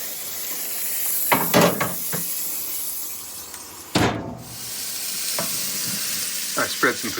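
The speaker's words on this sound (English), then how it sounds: "Here we're getting a nice sear on the pork chop" A bone-in pork chop sears in a hot pan, giving a constant close sizzle and hiss broken by several sharp clatters and scrapes of a utensil against the pan.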